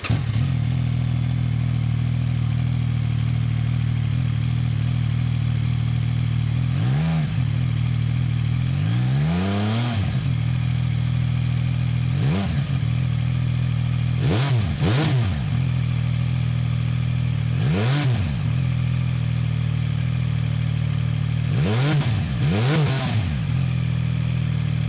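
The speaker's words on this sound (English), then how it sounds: "it's time to hear how the CF MOTO 675 SS sounds" A CFMOTO 675SS sport bike idling with a steady, burbling exhaust note, punctuated by several sharp throttle blips that rise and fall quickly, close and loud with no talking.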